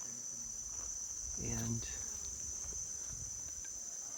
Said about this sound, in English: I'm being a little bit careful because these are African bees